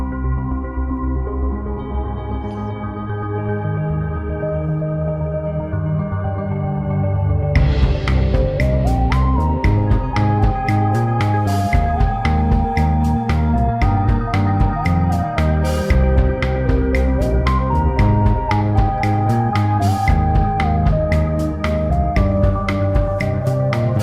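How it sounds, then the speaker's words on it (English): A Heaven Bells synthesizer patch, compared between a Dune 3.5 and a Roland JV-1080, plays sustained bell-like chords with shimmering harmonics, then a brighter rhythmic layer with a melodic line comes in, loud and continuous, with no talking. "Number 20 turns out to be a patch called Heaven Bells"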